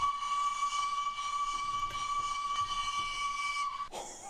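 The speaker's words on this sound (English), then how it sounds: "Now that is how Scotsman's whistle should be." A Flying Scotsman steam locomotive whistle in Train Simulator gives one long, steady, shrill blast that holds for nearly four seconds before cutting off, with a soft hiss underneath and no talking.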